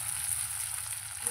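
Leftover idli pieces frying in a pan make a steady, moderate sizzle with a faint bubbling hiss, continuous and close.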